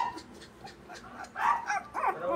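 A sick puppy whimpers and yips in short, thin, high cries, close by and fairly soft, growing a little louder toward the end.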